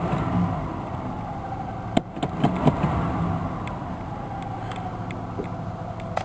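A 1988 Chevrolet Caprice Classic V8 runs on a cold New Year's Day start, a steady low rumble with a few sharp knocks and revs early on, then settling into an even idle.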